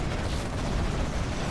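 Rocket barrage firing in a real-time strategy video game, a dense continuous rumble of rapid launches and blasts, loud and close, filling the moment without a break.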